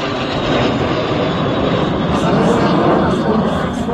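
A propeller aerobatic airplane roars overhead at the Jasná 2025 air race, a loud steady engine drone filling the scene with a slight shifting pitch as it passes.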